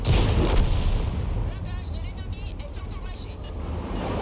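In the World of Tanks video game, a single heavy tank cannon shot booms loud and close at the start, then its low rumble fades under steady engine noise while someone commentates over it.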